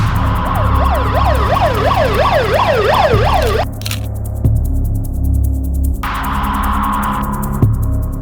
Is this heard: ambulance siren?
yes